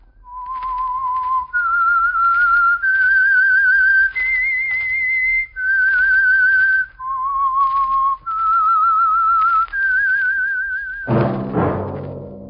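A whistled radio-show theme tune, a clear solo melody of sustained notes in short phrases that ends in a low orchestral thud.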